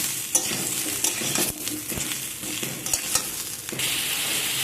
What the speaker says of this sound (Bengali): ঝিঙে আর আলুটাকে আমি ভালো করে মিনিট 2-3 নাড়াচাড়া করে দিয়েছি।